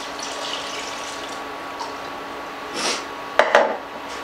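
Stock is poured into a pot for coconut rice in a kitchen: a short, soft liquid splash, then a few sharp metallic clinks of the pot and utensil over faint background hum.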